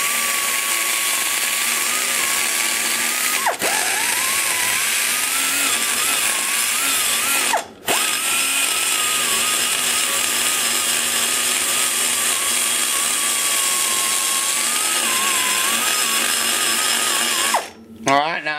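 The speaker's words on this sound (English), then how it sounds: "I've got to gnaw at this for a while with that big cutter" A large cutter bit in a high-speed die grinder gnaws out a big-block Chevy 345 intake port, a loud sustained whine that wavers as it bites, with two brief stops.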